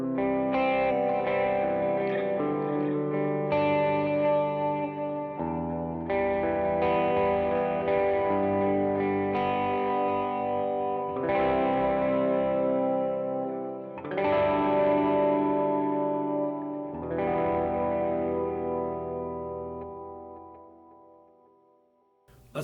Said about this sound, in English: Go and put that dual delay on because it gets some really nice ambient sounds.